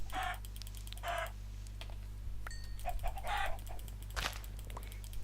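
Minecraft chickens cluck in several short bursts over steady low game hum, with faint keyboard typing in the background.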